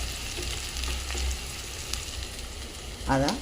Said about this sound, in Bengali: ছোটো ছোটো করে কুচনো পেঁয়াজ ভালো করে লাল লাল করে ভেজে নিতে হবে।